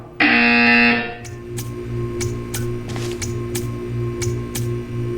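A loud sustained buzzer tone from the Portal 2 video game sounds for about a second, then gives way to steady low humming and a series of regularly spaced clicks or ticks.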